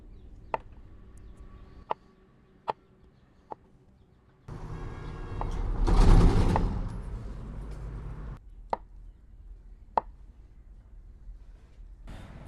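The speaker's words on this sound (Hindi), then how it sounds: "अब हम इनके छोटे छोटे पीस काट लेते हैं।" A knife chops soya chaap into small pieces on a board: a few sharp, isolated knocks, then a denser rapid stretch of cutting that swells in the middle, then more spaced single chops, close and clear with no talk.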